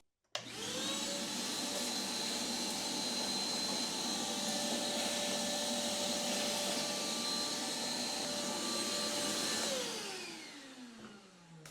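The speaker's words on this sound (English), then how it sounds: "bring a shop vac in here, kind of clean up this whole battery area" A shop vac runs steadily for about ten seconds while cleaning out the battery area of a John Deere S100 riding lawn mower, starting abruptly, holding a loud even whine, then spinning down at the end.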